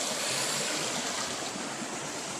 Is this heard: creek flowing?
yes